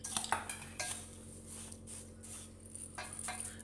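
A spoon scrapes and clinks against a metal vessel while a sweet poha mixture with peanuts and cashews is stirred, a few sharp clanks at the start, then softer scraping strokes, close and alone.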